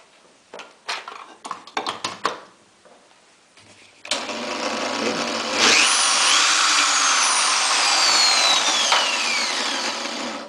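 Clicks and handling noises give way to a loud electric drill wired into a basic electronics circuit that starts up, whines higher, and runs continuously with a rough, buzzing motor sound.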